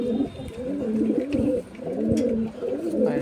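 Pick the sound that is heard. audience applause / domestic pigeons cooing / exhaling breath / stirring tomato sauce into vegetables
domestic pigeons cooing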